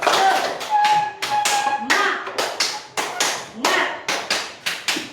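Rhythmic hand clapping from a classroom group during a clapping game in a Catholic religious education lesson, a steady run of about a dozen sharp, close claps in short repeating bursts with faint voices underneath.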